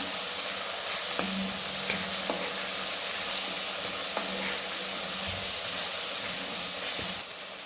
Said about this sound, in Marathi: आता टोमॅटो टाकूया बघा कांदा भाजीला मिक्स करून भाजून घ्या चांगलं